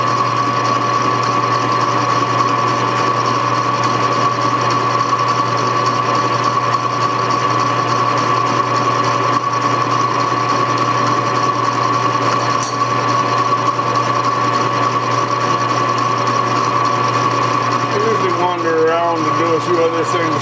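A power tool cuts iron pieces for a frame build, giving a loud, steady whine with a constant high tone that runs without a break, dropping away briefly near the end.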